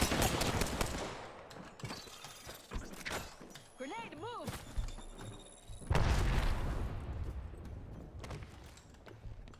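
A grenade goes off in the video game Apex Legends, a loud broadband blast midway through that trails off slowly, surrounded by gunshots and mechanical clatter.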